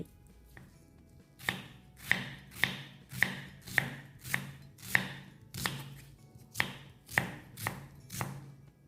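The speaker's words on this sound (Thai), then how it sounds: "นำหอมหัวใหญ่มาหั่นเตรียมไว้" A knife chops an onion on a cutting board in a kitchen, about a dozen crisp, loud, evenly spaced strokes close to the microphone, with no talking.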